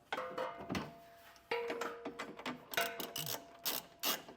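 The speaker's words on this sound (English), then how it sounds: "to get the 4 that we ran through our frame rail tighten, it's going to be an 11/16 socket. So go through and get those snug down." A ratchet with an 11/16 socket tightens trailer hitch bolts through the frame rail of a 2023 Honda CR-V, rapid clicking bursts in several close, fairly loud spurts with brief pauses.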